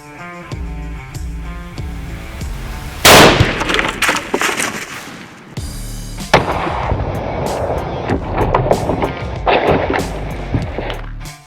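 A rifle round leaves the muzzle at about 3460 feet per second and strikes a test block, a sharp loud blast with a ringing boom following music-like background tones.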